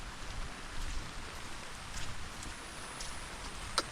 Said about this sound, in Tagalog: Naulan naman.